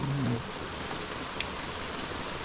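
Steady rain falls in a soft, even hiss at a boat-building site, faint and constant throughout, with a brief low voice-like sound at the very start.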